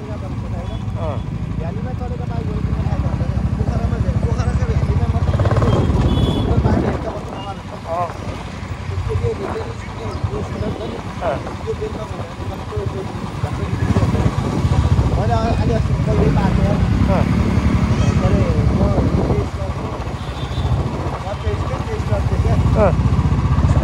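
A Royal Enfield Bullet 350 Classic motorcycle rides through Kathmandu, its engine a steady low rumble buried under heavy wind buffeting on the microphone, with voices talking over it throughout.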